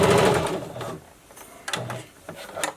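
Sewing machine running a straight stitch around a fabric face mask, a loud close mechanical whir in short bursts separated by brief pauses with light clicks.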